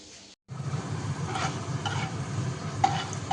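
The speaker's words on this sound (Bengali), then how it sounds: "এখানে মাছের জন্য আলু ভাজছি" Potatoes for a Bengali fish curry sizzle and fry in a pan on a home kitchen stove, a steady close hiss broken by a few stirring scrapes, with no talk.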